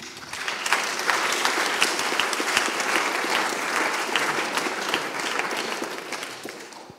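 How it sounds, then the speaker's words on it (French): An audience at a French conference on measurement and energy applauds after a talk, with continuous, fairly loud clapping from many hands and individual claps popping through the steady wash, sustained evenly for around seven seconds. "Je crois qu'on peut encore l'applaudir."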